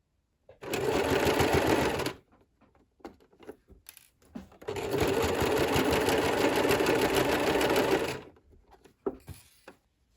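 A sewing machine stitches over a crochet granny square handbag in two long, loud runs of rapid mechanical whirring, with quiet handling clicks in the pauses between them.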